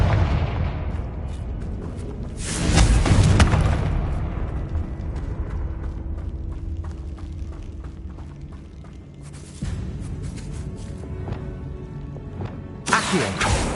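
A magical Bombarda blast spell going off in the video game Hogwarts Legacy, a loud booming burst near the start followed by rumbling combat noise and a second sharp burst toward the end.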